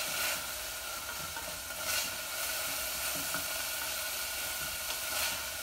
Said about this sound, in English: Now I'm just going to make sure that my loose meat is cooked.